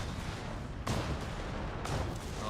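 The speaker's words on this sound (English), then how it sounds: "He hears the fire of that Stuka" Gunfire from a Stuka dive bomber in Company of Heroes 3 rattles through a dense, steady wash of in-game battle noise, with two sharper bursts standing out.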